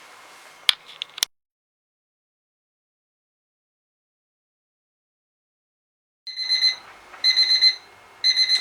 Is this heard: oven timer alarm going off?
yes